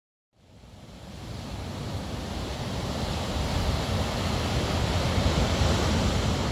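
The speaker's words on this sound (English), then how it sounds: "The ocean was so tumultuous and the waves were crashing up over the walls." Rough ocean waves crash over a seawall in a continuous roaring wash that swells steadily after a brief silent start, loud and close with no voices.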